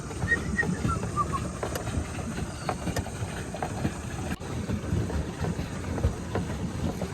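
A pedal boat moves across water in wind, heard as a continuous low rumble and wash of water with wind noise on the microphone and occasional faint knocks.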